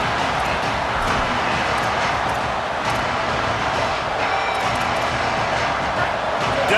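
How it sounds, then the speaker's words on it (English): Loud stadium crowd cheering and roaring at an American football game on third down, a steady dense wall of noise throughout with scattered whoops rising above it. "Decibels rising as the crowd gets behind this defense on 3rd down."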